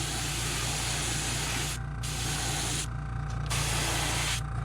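A crankbait is spray painted with white through mesh, the aerosol hissing steadily up close in a few sustained bursts separated by brief pauses.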